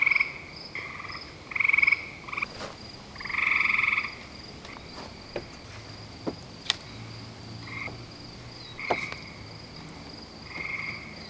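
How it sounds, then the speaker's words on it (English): A chorus of frogs calls at night near a bushcraft log cabin site, loud throaty croaks coming in repeated bursts, some long and rolling, over a steady hum of insects and scattered clicks. "The frogs are going nuts."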